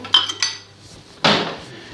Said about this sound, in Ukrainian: Тепер беремо ще одну тарілку